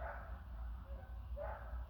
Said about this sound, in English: why is that dog barking so much?